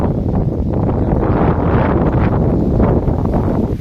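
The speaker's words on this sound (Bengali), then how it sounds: "প্রচুর বাতাস হচ্ছে।" Strong wind blows steadily around a rooftop railing where grapevines are tied up, a dense continuous roar with gusty rustling and buffeting against the microphone throughout.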